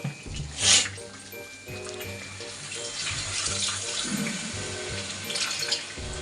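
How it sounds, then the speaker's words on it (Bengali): Water is poured from a container into a pan of cooked-down prawn curry masala, making a steady close splashing and gurgling pour throughout, with a brief sharper splash near the start. "এবার আমি এর মধ্যে দিয়ে দেবো জল"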